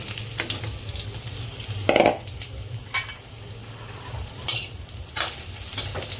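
Cumin seeds sizzle in hot oil for a soybean curry, a steady close frying hiss broken by a few sharp stirring scrapes and clinks of a utensil against the pan.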